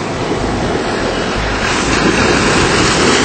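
Caribbean Sea waves wash onto the coast at Guanica Dry Forest, a loud continuous surf roar with wind buffeting the microphone.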